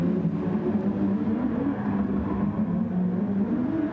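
Race car engines in GT Sport at Fuji International Speedway, with cars running close in a slipstream, make a loud, continuous droning whine that holds steady without breaks and carries no talking.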